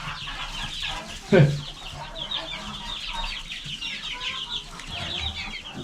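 Bantam Brahma chickens, a miniature form of the large breed, cluck and murmur nearby in a mixed coop. One louder call stands out near the start, and the soft clucking carries on steadily throughout.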